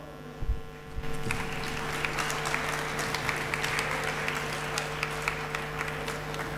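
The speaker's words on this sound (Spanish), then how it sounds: "Recibimos con un aplauso al licenciado." A conference audience at a medical talk on intensive-care patient management claps to welcome a speaker, sustained dense applause with sharp individual claps over a constant electrical hum, fairly close and steady for several seconds.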